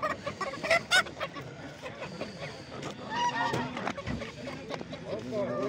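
Chickens and roosters cluck and crow in a busy crowd at a poultry market in Sungurlu, Çorum, Turkey, with honking fowl calls and people talking underneath.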